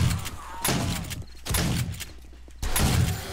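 Shotgun fire in the video game 7 Days to Die: three heavy, booming blasts spaced about a second apart, close and loud with lingering tails.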